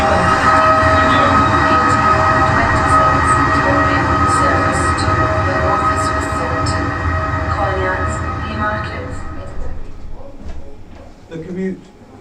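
A train at a station platform gives off a steady, loud rumble and hum that fades toward the end, with voices or an announcement underneath.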